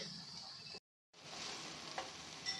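Chicken bharta is stirred in a pan with a quiet, continuous sizzle and a soft scraping texture. The sound drops out completely for a moment partway through, then resumes. No one speaks.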